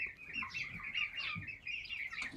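Brahma chickens, hens and roosters, cluck and chirp nearby in a quick, busy chatter, fairly faint with no voices.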